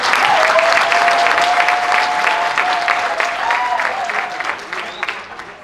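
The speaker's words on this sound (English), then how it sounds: "Ladies and gentlemen, a round of applause for them" Audience at a 2023 school of engineering symposium applauds the standing committee members: steady, dense clapping from a sizeable crowd that holds for several seconds before thinning out slightly, with a faint sustained tone running beneath it.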